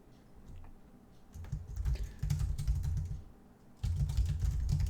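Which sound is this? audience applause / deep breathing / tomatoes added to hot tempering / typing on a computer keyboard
typing on a computer keyboard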